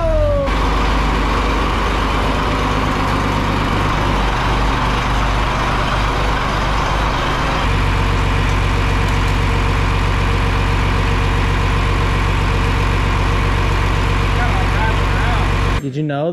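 A 20 series tractor engine idles nearby, a steady loud low rumble with a continuous drone that holds throughout and changes tone slightly partway through.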